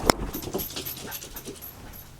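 A dog pants rapidly at close range in short breathy huffs, with a small sharp vocal sound right at the start.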